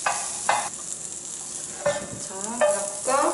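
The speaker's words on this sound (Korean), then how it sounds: "옆에 당근도 들어가서 한쪽 옆에서 따로 볶는 거죠" Carrots are stir-fried in a hot pan, with a steady sizzle and several sharp stirring scrapes spaced through the sound, close and fairly loud.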